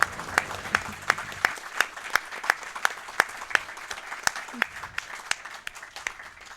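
Audience applause closing a Crash Team Racing esports match at the ASM2023 event, a steady wash of many hands clapping with sharp individual claps standing out, fairly close and uninterrupted by talk.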